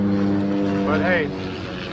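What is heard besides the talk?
propeller plane flying overhead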